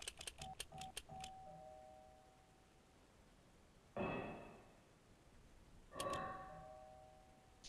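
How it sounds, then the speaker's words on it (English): An in-game doorbell chime from the video game Obduction, a quiet series of rapid ringing tones followed by two softer, fading dings, heard faintly with no talk. "I love that he actually has the doorbell ding dong noise."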